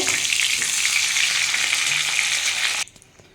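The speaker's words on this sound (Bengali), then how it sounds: "এই মাছের মাথাটা ভেজে নিই" A fish head frying in hot oil produces a loud, close, bright sizzle that holds steady for nearly three seconds, then cuts off abruptly into near silence.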